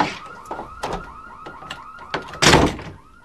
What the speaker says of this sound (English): The alarm's already on.